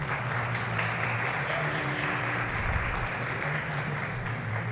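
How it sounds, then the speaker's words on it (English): An audience at a public English debate applauds the judges with steady, continuous clapping over a low droning hum, sustained and even from start to finish. "let's show them our appreciation for their time and expertise with a round of applause"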